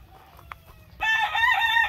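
A gamecock at a breeder's place crows once, close and loud, a single drawn-out call lasting about a second after a brief quiet start with faint background noise.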